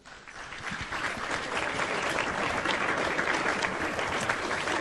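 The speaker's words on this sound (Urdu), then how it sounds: "تالیاں" Sustained applause from a TV studio audience fills the whole stretch, dense and steady, with no voices standing out.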